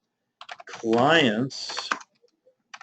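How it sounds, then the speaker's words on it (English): Quick bursts of typing on a computer keyboard while someone writes an email about a house offer, the clicks soft and mostly buried under a person speaking, with a few more keystrokes at the end. "Again, my typing's awful."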